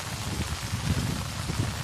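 Steady rain falls outdoors near solar panels on farmland, a dense continuous patter with low thuds of drops, even in loudness throughout and with no voices.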